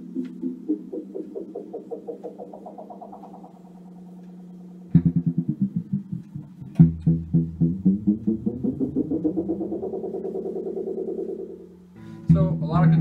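Guitar notes from a Bacchus Telecaster run through an Evans EV-80 vintage tape echo machine, each phrase trailing rapid rhythmic repeats that ripple on and slowly fade, with pitch sweeping upward in bursts.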